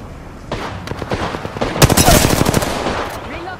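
Apex Legends gunfire in a competitive match: bursts of rapid automatic shots build to a loud, close volley in the middle, then taper off, with faint game voice callouts around them.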